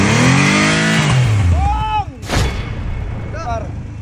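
Motorcycle engine with a car-like note revving loudly and winding down in pitch, followed by a sharp burst and further rising whines, with talking over it.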